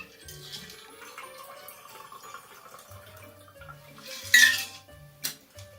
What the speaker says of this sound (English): Pour the shaken ingredients into your cocktail glass, coffee mug, whatever it is you have lying around.